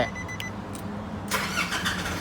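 A Nissan NP300 pickup engine shuts off by push-button stop with the brake pressed; a steady low idle rumble runs throughout, with a brief clatter and a burst of broadband noise near the end.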